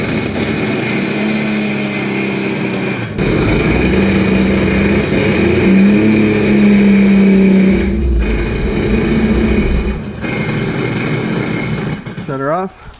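A Sea-Doo jet ski engine holds a loud, steady revving drone for several seconds at high RPM, dipping briefly between pushes before cutting off near the end.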